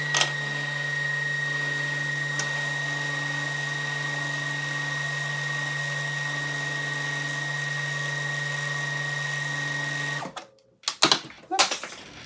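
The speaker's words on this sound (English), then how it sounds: "So I'm going to wind my bobbin." A sewing machine motor whirs steadily at close range for about ten seconds while winding a bobbin, then stops, followed by a few soft clicks and handling noises.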